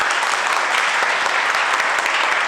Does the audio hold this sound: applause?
yes